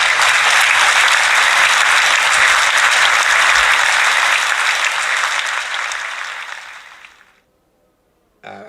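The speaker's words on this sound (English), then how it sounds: "I do have some applause for you." Applause sound effect played during a commentated F1 e-sports broadcast, a full crowd clapping burst that runs loud and steady for about seven seconds, then fades out abruptly into silence.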